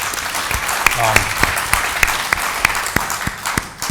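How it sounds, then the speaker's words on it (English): Applause from the audience at a policy conference conversation, loud and sustained, with many hands clapping in a dense roar and some sharp individual claps standing out. "let's give them a round of applause"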